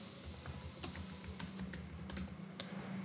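Fast, quiet typing on a computer keyboard, a steady patter of key clicks with a few sharper strokes, alone with no voices.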